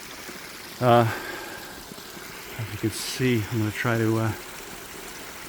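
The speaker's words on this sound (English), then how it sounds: "Here's the intermittent stream." An intermittent stream, swollen after days of rain, runs softly in the background while someone talks over it outdoors.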